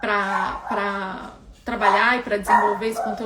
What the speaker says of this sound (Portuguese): Vocês vão ouvir minha cachorra latindo.